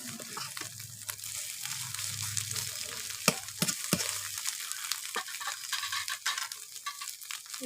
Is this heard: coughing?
no